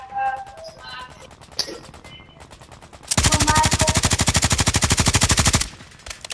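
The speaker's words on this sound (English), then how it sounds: "Why are you shooting that?" Rapid automatic gunfire from a Call of Duty video game bursts out loudly for about two and a half seconds, following quieter game sounds and scattered shots.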